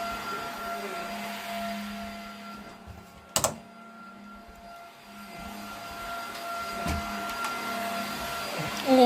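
A household vacuum cleaner runs in a room, a steady whine with a sharp knock partway through and the motor rising louder toward the end.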